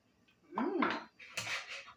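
Tasting spoon clinking against a pot of spaghetti sauce, two short metallic scrapes and clinks close up, no talk.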